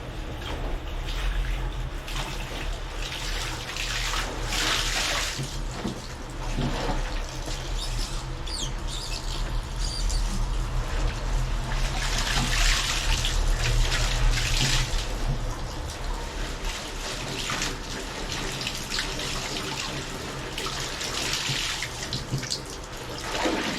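Water rinsing mud away during a Brigada Eskwela school cleanup in the Philippines: uneven bursts of splashing and pouring, close and fairly loud, recurring over a constant wet hiss.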